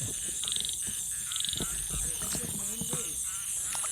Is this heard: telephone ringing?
no